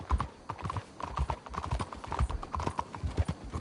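Horses' hooves clip-clop steadily on the ground in the Western open-world game Red Dead Redemption 2, a dense, rhythmic patter of several animals walking close by, with a brief whinny-like tone and faint game ambience underneath.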